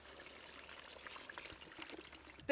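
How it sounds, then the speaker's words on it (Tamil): Water poured from a container into a pot of sautéed biryani base made from an instant kit, a steady close splashing stream lasting a couple of seconds and ending in a sharp knock. "இப்போ ஒன்றரை லிட்டர் தண்ணி இதில் நான் வந்து சேர்க்கணும் ஒரு லிட்டர் முதல்ல ஊற்றிடுவோம்"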